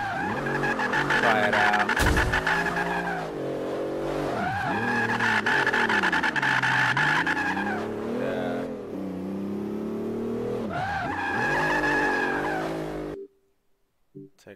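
A Bentley Continental on a drift course with traction control off, engine revving and surging in repeated waves while tyres squeal and skid, loud and close, with a person briefly speaking before an abrupt cutoff near the end.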